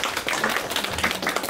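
A brief burst of audience applause fills a community grant-program briefing session, dense overlapping claps heard at moderate volume for just over a second.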